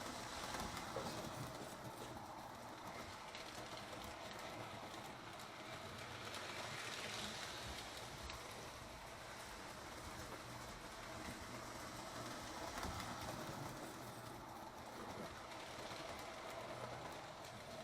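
A Lionel 027 toy steam freight train runs on a 3-rail double oval track, a steady whirring, rattling rumble of the motor and wheels that holds an even level throughout with no talking.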